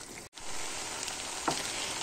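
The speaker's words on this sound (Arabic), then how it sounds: "صافي، غادي نخليو هذا الرز يطيب ونرجعوا نواصلوا ان شاء الله." Rice with vegetables cooks in a pan with a constant close-up sizzling hiss. A short gap early on and a single faint clink break it, with no voices.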